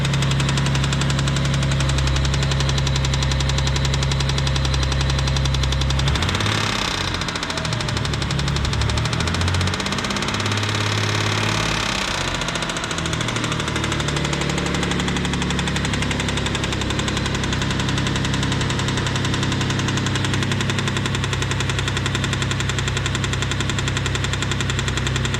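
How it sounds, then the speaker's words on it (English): Loud, continuous ticking and knocking from the engine of a 1992 Mitsubishi 3000GT VR4 twin turbo, running steadily up close with a brief rise in roughness partway through and no voices. "You've heard enough of a ticking DSM now."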